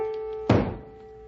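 An old broom handle bangs once against a ceiling, a single loud close thump over a steady background hum, then fading quickly.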